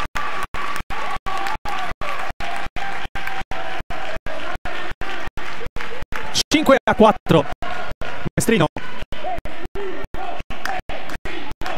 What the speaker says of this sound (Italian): Si fanno sentire ora i tifosi della squadra di casa.